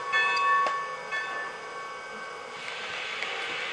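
A model train's small bell rings a few bright strokes up front, over a steady low mechanical hum.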